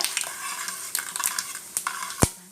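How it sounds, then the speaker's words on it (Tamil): Urad dal frying in a pan for a Tamil tamarind chili kootu, stirred lightly: close sizzling crackle with a string of quick spoon-against-pan clinks and scrapes, no voices. "உளுத்தம்பருப்பு போட்ட உடனே லைட்டாக அப்படி கிளறி விட்டுக்கோங்க"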